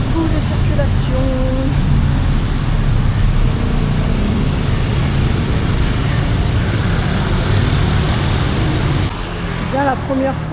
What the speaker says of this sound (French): Beaucoup de circulation.